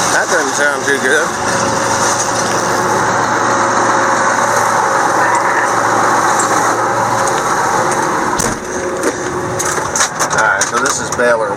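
Hay baler engine running loud and close, a steady mechanical drone with clanking and crunching on top, a brief dip near the end before rattles return.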